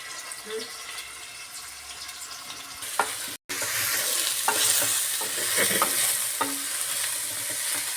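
Onions frying in a pan for bitter gourd sambar make a steady sizzle, with scattered scraping stirs and a brief dropout partway through; no talk.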